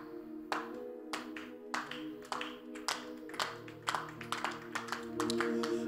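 Congregation clapping at a church sermon: sharp, irregular hand claps over a sustained low tone, several bursts spread across the stretch, moderately loud.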